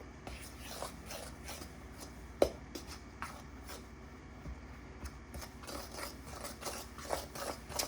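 Cornstarch is stirred into a thick pudding slime, making quiet, repeated scraping and squelching strokes with occasional sharper taps, close by and without talk.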